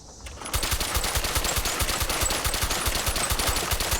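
Rapid, sustained automatic gunfire from the Peppermill crank gun loaded with shotgun shells in Fallout 4, hip-fired in a steady, loud, evenly spaced stream of shots after a brief lead-in.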